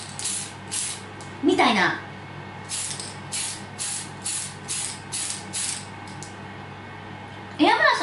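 A spray can of Gaianotes metallic prism hologram paint hisses in several short, repeated bursts, close and fairly loud, with brief pauses between sprays while a voice speaks briefly.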